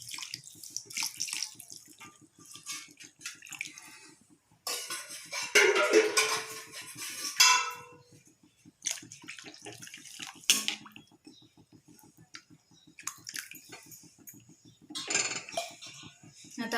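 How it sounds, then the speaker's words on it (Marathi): Water being poured into a pot of drumstick curry with ground masala, irregular splashing bursts and gurgles separated by pauses, close, with a low hum and some pot clatter. "आता गरजेनुसार पाणी टाकून घेऊ"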